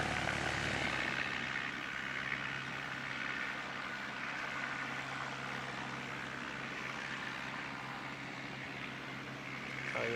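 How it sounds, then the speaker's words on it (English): Aircraft engine at Christchurch Airport in wet, rainy weather, a steady droning roar that holds at a constant level throughout, with a faint low hum beneath and no talking. "this is the aircraft"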